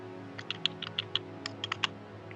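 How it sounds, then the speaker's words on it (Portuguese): Keys tapped on a computer keyboard while entering figures into a spreadsheet: about a dozen quick, crisp clicks in an uneven rhythm, close and fairly quiet over a low steady hum. "Vou começar a digitar os quantitativos"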